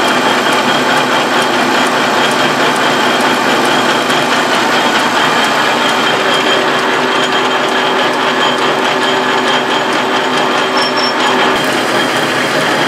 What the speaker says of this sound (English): I'm going to make a couple passes now and take the threads off and make a nice smooth shank